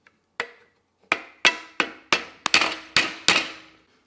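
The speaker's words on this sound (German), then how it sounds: "Und jetzt muss man halt vorsichtig diesen Pin hier, sage ich mal, mit dem Hammer" Eight sharp metallic hammer taps at uneven intervals, tapping a pin into an Oak Components brake lever on a Magura MT7 brake, each ringing briefly before fading, close and fairly loud, with no voices.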